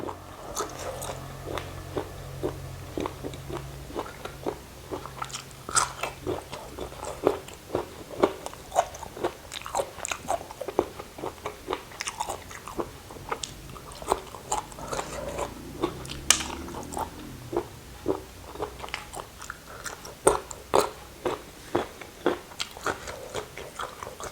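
Close, crunchy chewing of a spicy Thai bamboo shoot salad with giant octopus, with repeated crisp bites and wet mouth sounds in an irregular rhythm and no talking.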